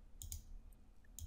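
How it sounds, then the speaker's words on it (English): Two quick computer mouse double-clicks, each a crisp pair of close, quiet clicks, one near the start and one at the end, with a faint tick between. "If I double click that one"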